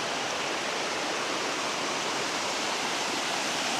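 Creek water rushes steadily over rocks at a trail crossing on the Mountains to Sea Trail, a loud, unbroken broadband roar close by with no voices.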